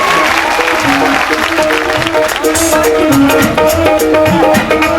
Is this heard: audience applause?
yes